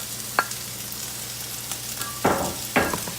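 Awaze tibs with jalapeno frying in a pan, a low steady sizzle broken by a single utensil tap and then two bursts of vigorous stirring near the end.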